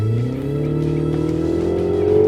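A 2025 Mini Countryman S engine revs hard under full throttle, its pitch climbing steadily as it accelerates, loud and close with a rising whine.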